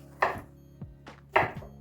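A knife chops through zucchini strips on a cutting board, two firm thuds with lighter taps between, close and clear with no talking.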